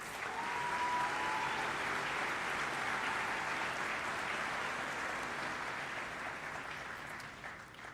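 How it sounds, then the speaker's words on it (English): Audience applause for a student at a high school commencement ceremony, a dense, even roar of clapping from a large crowd that holds steadily before thinning out at the end. "Please give Bray a round of applause."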